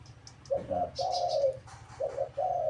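Repeated soft dove coos, several short rounded calls in a row, fairly close, with faint chirps of other birds in the background.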